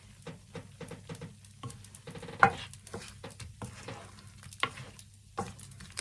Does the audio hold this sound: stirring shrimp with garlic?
yes